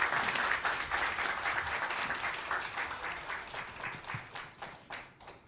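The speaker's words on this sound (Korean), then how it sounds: "여러분 큰 박수로 환영해 주십시오." Audience clapping to welcome two alumni guests onto the stage at a university history department's 70th anniversary talk concert, a fairly quiet, even applause that gradually thins and fades out.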